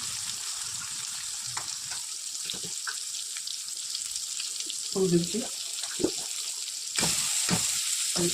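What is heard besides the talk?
eggplant frying in hot oil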